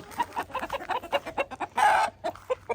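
Chickens cluck in rapid, uneven bursts close by, with one louder squawking call rising in the middle of the chatter.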